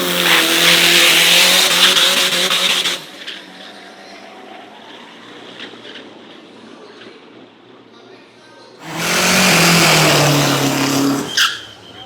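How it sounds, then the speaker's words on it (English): A turbo diesel dragster, running the engine found in Toyota Hilux and Fortuner trucks, revs hard at a Thai drag race. Loud close roars sound at the start and again near the end, with a quieter stretch of distant engine noise between them. "This is the same turbo diesel that you see in Toyota Hiluxes, Toyota Fortuner SUVs."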